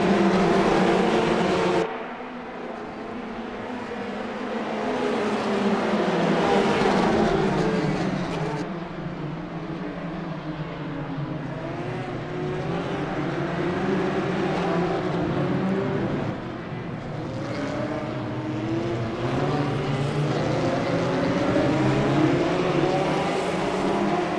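Race car engines roaring in the LMA Racing video game, a loud sustained drone that rises and falls in pitch as the cars accelerate and shift, with no talk over it.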